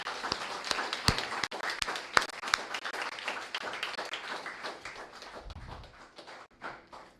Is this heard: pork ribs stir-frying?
no